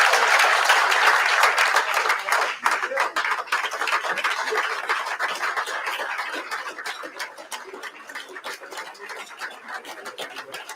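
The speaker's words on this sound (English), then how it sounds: "Big round of applause for the great Wade Houston." A luncheon audience bursts into loud, dense applause that holds for several seconds, then gradually thins into scattered individual claps as it fades.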